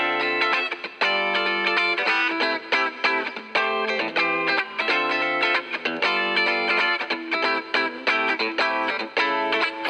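Processed electric guitar part, tightened with Manny Marroquin EQ and reverb plugins, playing dense distorted chords with a chorus-like shimmer and short rhythmic gaps, loud and close throughout with no voices.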